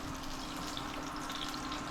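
Chicken Milanese cutlets fry in a pan with a steady, close, even sizzle of hot oil that holds for the whole stretch, with no voices.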